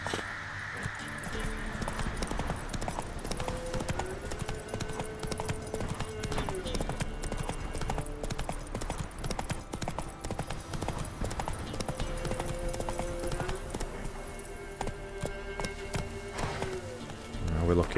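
Roach the horse galloping in The Witcher 3, hooves clip-clopping in a fast, steady rhythm throughout over background game music.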